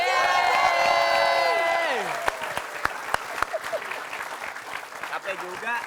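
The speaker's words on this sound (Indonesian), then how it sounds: "Silakan tepuk tangan buat Tata Nana" Applause and cheering from a comedy show audience for Tata Nana, loud over sung or held voices for the first two seconds, then fading into scattered claps and chatter.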